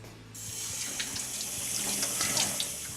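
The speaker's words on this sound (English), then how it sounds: "My first job is to wash my hands." Hands being washed under a running kitchen tap, a steady close stream of water with small splashes as the hands move through it, no voices.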